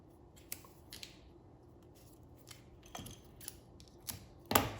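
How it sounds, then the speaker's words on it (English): Scissors snip through 2-inch adhesive tape in a few quick, faint cuts scattered among quiet handling noises, ending with a louder, sharper snip. "So I'm going to use this 2-inch tape right here. Give it a cut."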